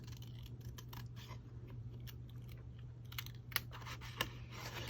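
Scissors snip through a paper craft tag for boho gypsy decorating, a run of small crisp cuts close by over a steady low hum, with no talking.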